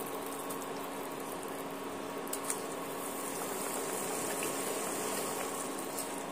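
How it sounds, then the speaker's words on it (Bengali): Fish curry gravy bubbling in a pan, a steady close simmering hiss and gurgle that continues evenly throughout, with a faint tick or two partway through. "আর গ্রেভিটা আমার এখানে সুন্দরভাবে ফুটে উঠেছে।"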